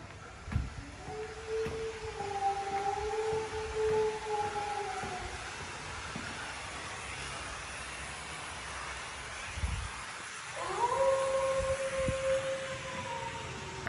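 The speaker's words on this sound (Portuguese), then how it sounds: "Tem som ambiente na casa toda de uivado." A howling ambient effect plays through a darkened house staged for a challenge, long wavering siren-like wails rising and falling over a steady airy hiss, fading out midway and returning louder near the end.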